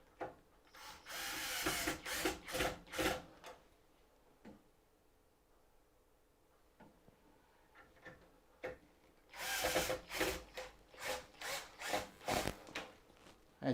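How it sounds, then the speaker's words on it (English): Self-tapping screws being driven with a power tool into a wooden drawer, heard as two clusters of short, loud whirring bursts with a quiet gap between them, no talking. "So these are just self-tapping screws that are going to go straight into there."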